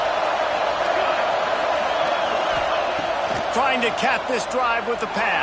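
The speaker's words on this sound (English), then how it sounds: "These fans are going absolutely nuts." Loud football stadium crowd roaring during a red-zone drive, a dense continuous din with whoops rising toward the end, under an excited play-by-play commentator's voice.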